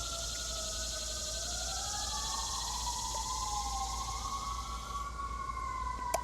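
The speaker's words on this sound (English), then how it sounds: "I hear the sirens." Emergency vehicle sirens wailing somewhere in town, several rising and falling tones overlapping at a distance, faint and continuous over background hiss.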